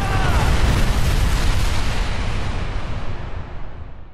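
Loud, continuous rumbling blasts from a series of explosions in the World War II shooter Sniper Elite 4, with a dense low roar that stays heavy for four seconds and thins slightly toward the end.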